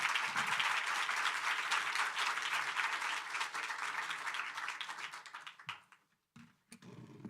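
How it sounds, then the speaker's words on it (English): Sustained warm applause from an audience at a UN General Assembly Food Day event, steady dense clapping that tapers off near the end, heard alone without speech. "Let's give him another warm round of applause, please."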